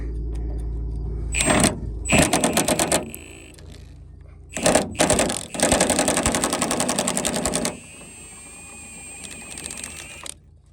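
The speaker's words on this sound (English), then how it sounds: "Let's put the impact to it." An impact wrench hammers on a bed bolt of a 2005–2012 Nissan Frontier pickup in loud rapid bursts, several rattling runs separated by short pauses, close up and without talk.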